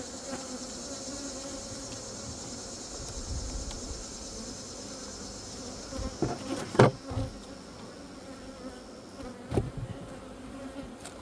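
Honeybees buzz in an open hive during a small hive beetle treatment, a steady close hum throughout with a few louder clicks and knocks of frames being handled.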